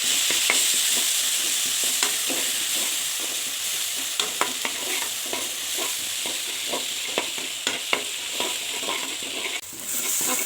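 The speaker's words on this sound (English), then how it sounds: "add the costly ground spices to a frying pan, then salt the spices until you can smell the aroma" Ground spices sizzle steadily in a frying pan with salt, a constant loud hiss broken by repeated scraping clicks of stirring and no talking.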